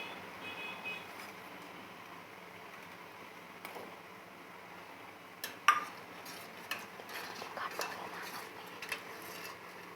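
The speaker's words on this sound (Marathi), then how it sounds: "एकदम एकजीव करून घ्यायचं पीठ एकदम छानपैकी" A spoon clinks and scrapes in a bowl of gram flour batter whisked smooth for Maharashtrian dahi kadhi, with faint, sporadic taps over a quiet background.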